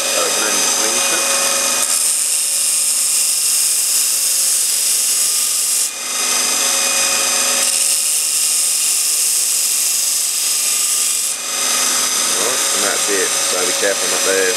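A machine grinding away metal from an engine connecting rod to balance it makes a steady, harsh, high-pitched whine that continues for the whole stretch, briefly dipping twice, loud and close.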